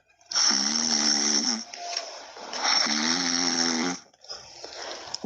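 Two long snores in a children's story, each a loud rattling buzzy inhale, are voiced by a person imitating the sound, followed by a quieter, breathier snort.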